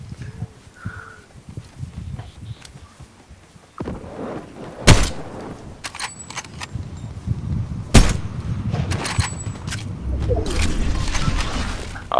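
Fortnite players shoot at each other in a battle royale match, with scattered sharp gunshots and two loud close cracks among ongoing thumps and rustling game noise, the firing growing busier toward the end.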